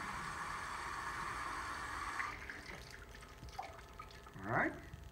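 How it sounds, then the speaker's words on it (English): Water running from a tap into cups for an ice demonstration, a faint steady stream that trails off into a few drips and small splashes near the end. "first thing I'm going to do is fill these up with water"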